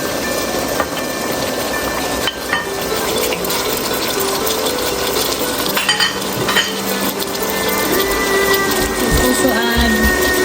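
King oyster mushrooms stir-fried in a pan for Filipino pancit bihon, a continuous loud sizzle with clattering, scraping stirring noises close by, and a voice speaks briefly.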